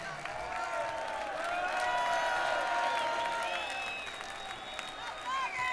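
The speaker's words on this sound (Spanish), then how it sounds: "Quiero que deis un aplauso muy grande a nuestros 4 pipas, a Flores, a Cristina, al Richard" A crowd applauds and cheers steadily at moderate volume at a live rock concert in 2002, with whistles and shouts rising over the clapping throughout.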